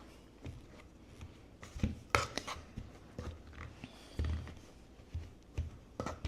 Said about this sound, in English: break it up with a pastry blender